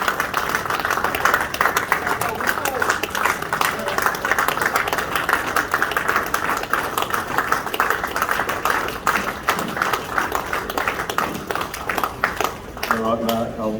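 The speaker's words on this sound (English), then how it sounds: "Applaud Mark." Sustained applause from a seated audience at a club's senior presentation night, honouring a member's elevation to legend status; steady dense clapping that runs throughout, with a few voices near the end.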